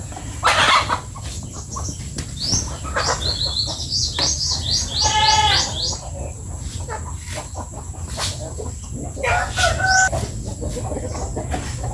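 Chickens cluck and call in a noisy yard, with a rooster's crow and scattered squawks over steady background hum and rustling.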